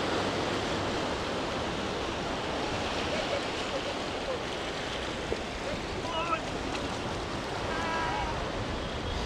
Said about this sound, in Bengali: দেখেন আমার পিছনে সমুদ্র।